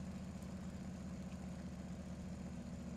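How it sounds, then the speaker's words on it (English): Boat engine idling in a Norwegian Sea fishing video game, a steady low rumbling throb that holds constant and fairly quiet throughout, with no voices. "I don't like this engine sound, it's annoying"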